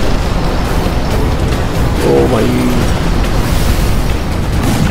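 Rumbling, roaring blasts from a tanker blown up in the video game Crysis 3 fill the clip as a dense, steady wall of noise, with a man's brief exclamation over it.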